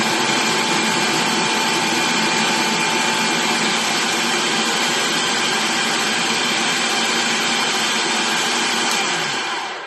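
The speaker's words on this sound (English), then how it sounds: "I've got them in my processor, and I'm just going to chop them up." A food processor chops onions for homemade spaghetti sauce, running as a loud, steady motor whir that holds unbroken for the whole stretch before easing off at the very end.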